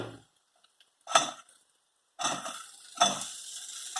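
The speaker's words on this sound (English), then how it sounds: "Now I am putting the dals." Dals and potatoes dropped into a hot pan, giving short bursts of sizzling and stirring that fade and return, with near silence between them.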